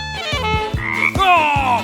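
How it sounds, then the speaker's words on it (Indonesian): Frog croaking sound effect, a rapid series of loud, close, rasping croaks repeating in a steady rhythm with no talking. "Wow, kodok."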